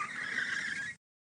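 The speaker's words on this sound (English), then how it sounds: "sound of screeching brakes" Car brakes screech in a single shrill, sustained squeal lasting about a second, loud and close, then cut off abruptly to silence.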